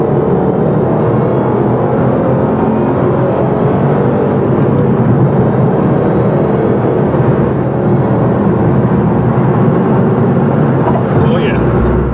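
Engine of a 2011 Cadillac CTS-V Coupe, a loud sustained rumble with broad road and wind noise, steady and close as the car drives.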